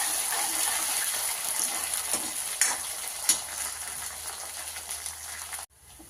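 Onions and green chillies sizzling steadily in hot oil in a pan, a close, continuous frying hiss with a couple of brief clinks of stirring before it cuts off abruptly near the end.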